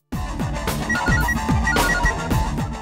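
A phone ringtone plays a repeating electronic melody, loud and close, with no talking.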